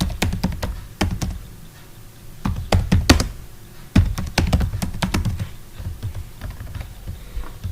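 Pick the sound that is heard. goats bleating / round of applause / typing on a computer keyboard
typing on a computer keyboard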